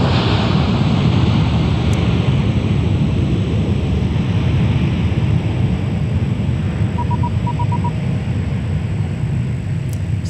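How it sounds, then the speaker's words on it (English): An Airbus A321-200 airliner lands at Minneapolis–St. Paul airport, heard as a loud, steady broadband roar. Wind-like rumble runs throughout, with a faint short series of beeps in the middle. "It's another Airbus A321-200."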